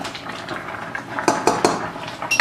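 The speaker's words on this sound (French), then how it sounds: "là on va mettre donc, de l'ail." Garlic goes into a cooking pot for pundu, with a few sharp metallic clinks and scrapes of a utensil against the pot, close and brief, with no one speaking.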